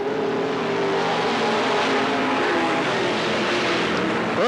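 Modified race cars roar together at the start of the main event at Cottage Grove Speedway, a loud, sustained engine drone from the pack with rising revs near the end.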